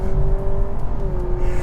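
A 2022 Honda Civic hybrid under full throttle, its engine holding a steady, even drone for a brief moment, close and fairly loud, with no speech.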